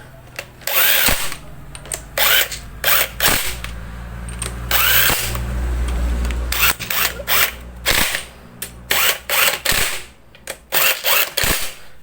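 An impact wrench fires in repeated short, loud rattling bursts at close range, tightening magneto-side bolts during assembly of a Raider 150 motorcycle engine, with brief pauses between bursts.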